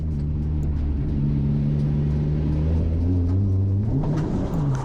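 A Nissan 240sx with a turbocharged KA24DE-T engine drones loudly from inside the car on a track lap, with steady tones that shift in pitch as the engine revs rise and fall.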